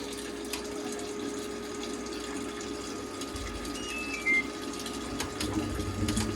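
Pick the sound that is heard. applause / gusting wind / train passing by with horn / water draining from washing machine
water draining from washing machine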